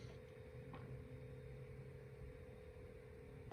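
An MSI GP66 laptop's cooling fan idles at around 2400 RPM, a faint, steady whir with a low hum underneath, constant and close with no talk.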